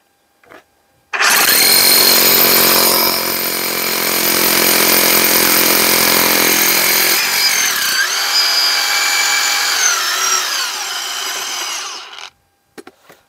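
Bosch GBH 18V-45C BITURBO cordless rotary hammer drilling in automatic mode, a loud, steady hammering whine that runs about eleven seconds, changing pitch partway through, then cuts off abruptly; no voices.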